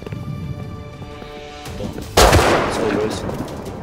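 Gunfire in the online survival game Rust: a faint tonal hum gives way to a loud, sudden burst of shots partway through, followed by a rumbling, reverberant tail.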